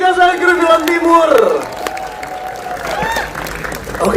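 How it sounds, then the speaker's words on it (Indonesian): At a film press conference, an audience breaks into brief applause that fades after a second or so, leaving a murmur of voices and talk. "Boleh tepuk tangan sekali lagi untuk cast and crew Film Timur."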